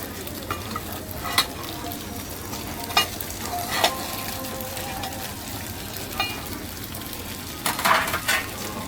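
Pan-fried buns sizzling on a griddle at a busy Beijing market breakfast stall, a loud steady hiss broken by metallic scrapes and clanks of a spatula against the pan, with brief faint voices nearby.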